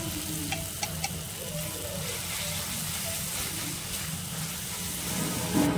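Garlic-cumin paste with chili and turmeric powders fries in a pan, giving a steady, moderately loud sizzle throughout with faint scraping of stirring.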